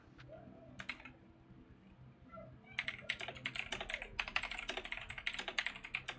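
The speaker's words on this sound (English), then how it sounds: "I know you're typing, Fox" Computer keyboard typing indoors, starting with a few scattered keystrokes and then breaking into a fast, continuous run of close, crisp clicks that goes on to the end, with no voices.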